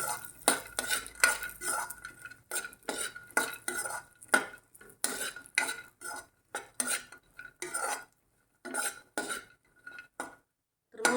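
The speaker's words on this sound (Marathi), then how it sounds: "आपण शंभर ग्रॅम काळे मनुके घेतले तुम्ही पिवळे मनु मनुके पण वापरू शकता हे पण आपण भाजून घेऊया" Black raisins roast in ghee in a pan while a metal spoon scrapes and clinks against it in quick irregular strokes with brief pauses, close and without talk.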